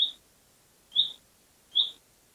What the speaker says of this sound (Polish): jakieś ptaszki ćwierkają, pewnie głodne są